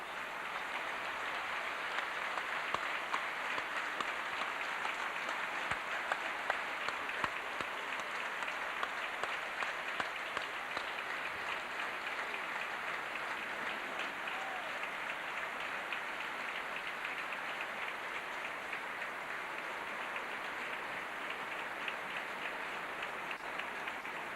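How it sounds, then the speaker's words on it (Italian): Stadium crowd applauding steadily during a minute of remembrance at a football match at the Martelli ground, a dense, continuous hiss of clapping holding at a constant level throughout with no voices above it. "Avete sentito probabilmente in sottofondo l'applauso"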